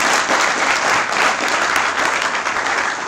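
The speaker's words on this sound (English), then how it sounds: "please, big hand of applause" A full audience gives a sustained round of applause for Prabha, alumni association vice president, at a communal harmony week gathering; thick, even clapping runs throughout without a break.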